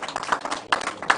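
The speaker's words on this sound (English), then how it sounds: "let's give him a round of applause one more time." Audience applause at a vice presidential nominee unveiling, a short stretch of scattered, uneven claps at moderate level with a few sharper individual hits.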